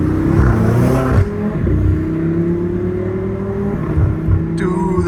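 A Lamborghini engine revs with a deep, loud rumble and rising pitch sweeps, heard close by and alone over a steady low drone.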